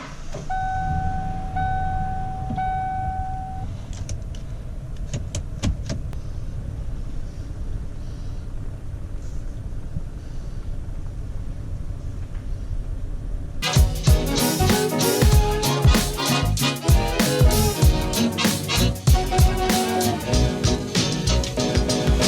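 A 1994 Ford F150 4x4 pickup with freshly bled brakes, heard from inside: a few soft chime beeps over a quiet cab, then a loud, rough, continuous rumble of the truck driving off fills the rest.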